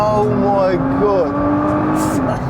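An Audi Q7 pulls hard after a downshift, its engine rising in pitch and then shifting up as it surges. The sound is loud and steady, and a voice can be heard over it.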